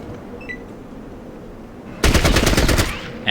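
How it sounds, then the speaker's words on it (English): Automatic gunfire in the Fallout Tactics game, Kansas City mission: quiet background at first, then a sudden loud, rapid machine-gun burst that lasts about a second before cutting off. "thank you for shooting me in the back"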